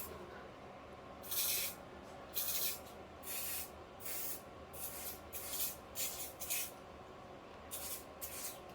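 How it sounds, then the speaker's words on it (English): Non-stick cooking spray hisses onto the bottoms of a muffin tray in about nine short, close bursts spaced unevenly over several seconds. "We got spray, don't we? In the bottoms?"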